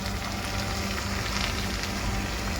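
Potato and cauliflower curry sizzling in a pan as it is stirred, a dense steady crackle close up with no talking.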